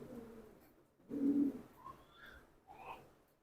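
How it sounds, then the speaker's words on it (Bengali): Military pigeons cooing, a few soft low coos close by with faint chirps in a quiet setting. "মিলিটারি কবুতর"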